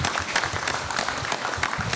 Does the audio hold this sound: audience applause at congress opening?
yes